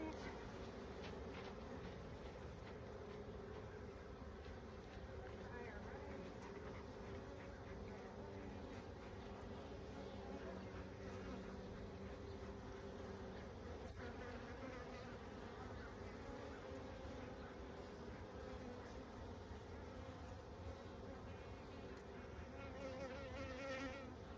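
Dense, continuous buzzing of many bees close by during a hive inspection in bad weather, a steady droning hum with no break, fairly quiet overall.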